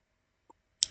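A computer mouse clicked while choosing the File menu in Excel, a faint small tick followed by one sharper click, close and isolated in silence.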